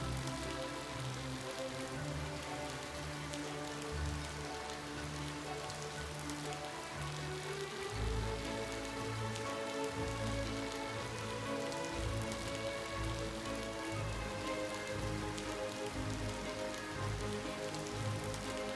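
Constant patter of rain falling in the video game Ova Magica, a soft, even wash of drops lasting throughout with faint tonal game sounds beneath.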